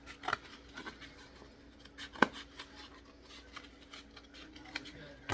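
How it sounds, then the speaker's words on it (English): Scissors snipping through a cardboard egg carton in irregular, soft clicks and crisp cuts, one sharper snip standing out, close and quiet. "Then we're going to cut off this extra flappy part."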